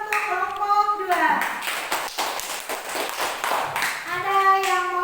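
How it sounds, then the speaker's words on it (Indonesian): Schoolroom class clapping for a presenting group, a burst of many hands lasting a few seconds in the middle, with a teacher's voice speaking just before and after it. "tepuk tangan dulu untuk kelompok 2"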